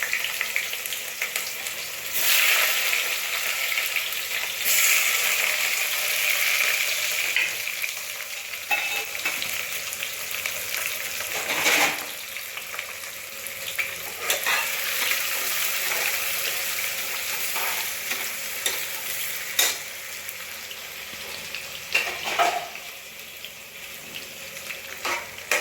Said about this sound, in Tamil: இப்போ வெங்காயம் நல்லா குக்கர் காஞ்சிடுச்சு.